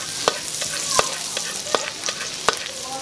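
Pork hock for crispy pata is sautéed in a frying pan, a steady sizzle under a few sharp scrapes and clinks of a utensil stirring against the pan at irregular intervals, close and fairly loud.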